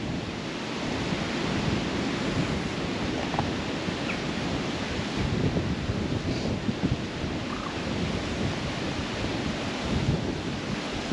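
Steady wind buffeting near the water at Womack Water on the Norfolk Broads, a loud continuous rumbling roar close to the microphone with no pauses.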